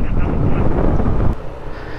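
Rough, gusty cold wind rumbles and buffets the microphone for over a second on a motorcycle tour, then eases to a softer, steadier rush.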